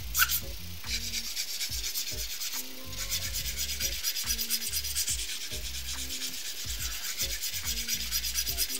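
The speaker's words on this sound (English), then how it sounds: "180 side because it'll smooth a little bit more. It'll still reduce thickness, but it'll be less aggressive than a 150 grit file." Acrylic nails are filed with the 180 grit side of a nail file in rapid back-and-forth scratchy strokes, close and steady throughout with no talking.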